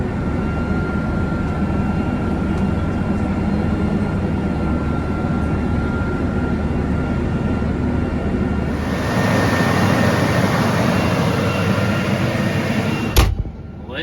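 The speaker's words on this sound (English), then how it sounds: "it's lovely sounding engine that." Tractor engine running steadily in a field during drilling, heard as a loud, continuous low drone from close range that gains a high whine partway through and ends with a brief knock.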